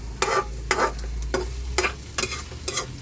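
An egg cooking in a pan on a home stove, with a steady low sizzle under repeated sharp scraping strokes of a utensil stirring against the pan.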